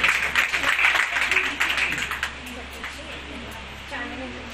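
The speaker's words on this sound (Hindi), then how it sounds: "गुलनाथ के लिए एक बार जोरदार तालियों से इनका सम्मान करें।" Crowd applause at an award ceremony honoring trained young women in Niyamatpur, a dense burst of many hands clapping that is loud at first, then thins and fades, with a low steady hum underneath.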